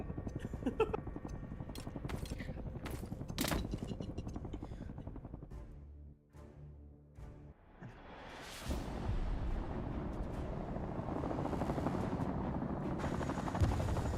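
A helicopter in a video game whirs with a steady rotor drone that fills the second half, preceded by sharp bursts that sound like gunfire and a brief quieter lull.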